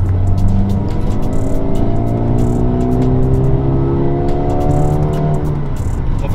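Mercedes-AMG A35 sedan accelerating hard in Sport Plus mode with paddle shifts, engine note climbing steadily through the revs, loud and close from inside the car, with brief gear changes breaking the rising drone.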